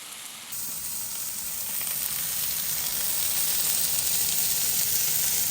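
Purple onions with a smash burger patty sizzling on a hot grill: a steady, bright, fairly close hiss that starts abruptly after a brief pause and holds evenly throughout, with no voices.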